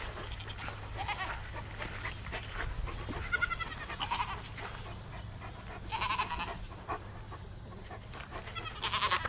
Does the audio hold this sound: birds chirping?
no